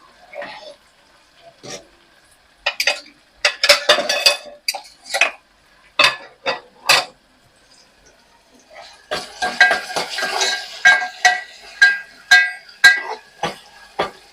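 A metal lid is handled and set onto a cooking pot while dried small fish cook with fresh field bean seeds, giving sharp clinks and clattering bursts separated by quiet pauses.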